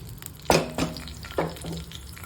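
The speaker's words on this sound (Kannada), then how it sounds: "ಇದನ್ನೆಲ್ಲ ಎಣ್ಣೆಯಲ್ಲಿ ಚೆನ್ನಾಗಿ ಫ್ರೈ ಮಾಡ್ಕೊಂಬೋಣ" Green chillies, cinnamon and cloves frying in oil in a pan for a festival boti dish, heard as a soft sizzle with a few sharp scrapes of stirring.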